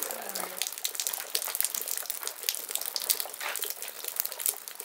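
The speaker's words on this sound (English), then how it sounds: "cracks in the rock actually create these little passageways for water like this to flow out" Spring water trickling out of cracks in the rock in a remote canyon, a steady close-up splashing and bubbling flow that continues unbroken and heard on its own.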